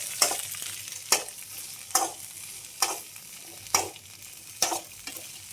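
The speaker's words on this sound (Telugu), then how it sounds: "బెండకాయలు వేసి బాగా కలబెట్టుకున్నాం." Okra frying in hot oil for bendakaya masala pulusu hisses under six evenly spaced scraping strokes of a stirring spoon, close and fairly loud, with no voices.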